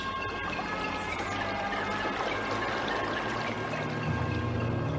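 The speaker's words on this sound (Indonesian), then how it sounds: "membasuh dan menyegarkan wajah kita dengan air dari pancuran yang membawa berkah ini" Water pours steadily from a fountain spout at a bathing place, a continuous close rushing stream that stays loud and even throughout.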